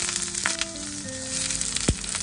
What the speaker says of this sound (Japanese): で、ナスをね、焼く。